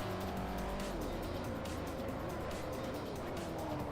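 Race cars roar and pass in Forza Motorsport 4 as a Ferrari and a Koenigsegg are overtaken, engines droning loud and steady with tire squeal throughout.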